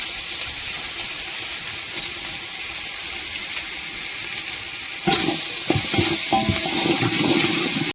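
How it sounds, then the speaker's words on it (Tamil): Tomato and rock salt sauté in hot oil for a fish curry, giving a steady loud sizzle that swells and crackles harder midway as the pan is stirred, with scraping clatter and no talking. "ஒரு தக்காளி சேர்த்துக்கலாங்க. தக்காளி நல்லா வதங்க."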